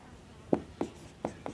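Writing on a board while working out an HCF (highest common factor) problem: four short, scratchy strokes spaced about a quarter second apart, fairly close and clear, with no talking.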